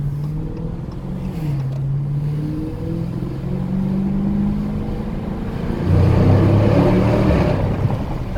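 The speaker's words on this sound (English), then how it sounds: "We're gonna do a little tunnel pass right here." A 2019 Dodge Challenger Scat Pack Widebody makes a tunnel pass, its engine droning steadily and loud, rising in pitch, then swelling louder toward the end as revs climb, heard from inside the car with no talking.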